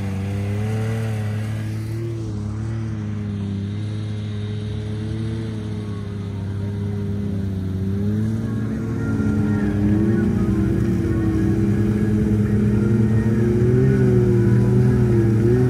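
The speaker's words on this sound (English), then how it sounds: "Off-road limousine, baby!" Engine of an off-road limousine on 45-inch tires drones steadily and loud, with rising and falling revs that swell louder toward the end, no talk over it.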